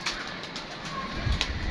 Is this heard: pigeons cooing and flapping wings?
yes